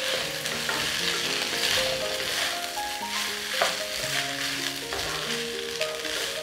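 Vegetables for a vegetable pulao roast and sizzle in a pan over a medium flame. The frying hiss is constant and close, and a spoon stirs now and then. No one speaks.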